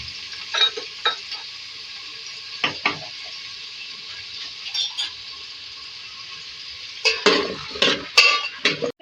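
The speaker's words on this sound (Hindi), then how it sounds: "इनको ऑयल में डाल के पहले फ्राई करेंगे" Halved potatoes fry in oil for a beef aloo gosht handi, a constant quiet hiss broken by scattered clinks and scrapes, with a busier burst of utensil knocks toward the end.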